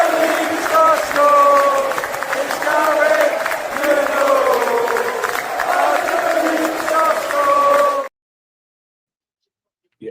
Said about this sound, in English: we're gonna give her an absolute huge round of applause